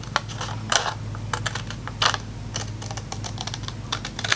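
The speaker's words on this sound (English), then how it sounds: "I just found it to be much easier to use my shears and just cut this" Shears snip through a paper card panel in quick crisp cuts, a close, quiet run of short clipped strokes and rustles in uneven rhythm over a low steady room hum.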